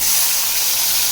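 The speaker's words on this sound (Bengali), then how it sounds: "এবারে এই আলু ভাজাগুলো এর মধ্যে দিয়ে দেবো, জল ঝরিয়ে ঝরিয়ে দিয়ে দেবো।" Potato pieces dropped into hot oil with curry leaves in a home kitchen, a steady bright frying hiss that fills the short moment, loud and close with no voices.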